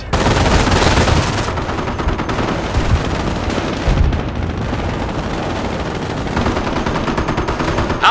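Gunfire in the World War II strategy game Company of Heroes, dense overlapping machine-gun bursts and rifle shots mixed with heavier booms, loud and continuous throughout with no voices over it.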